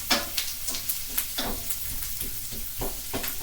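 Onions frying in a pan for cabbage and noodles (haluski), stirred with a utensil: a steady sizzle broken by several scraping stir strokes, close and moderately loud, with no talking.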